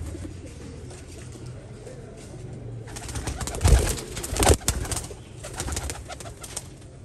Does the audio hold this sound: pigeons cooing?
yes